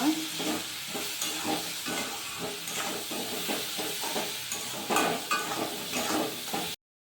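Egg and potato curry coated with ground chilli, turmeric and spice paste is stirred in a hot pan, with a steady sizzle under repeated scraping strokes of a spoon and occasional clinks against the metal.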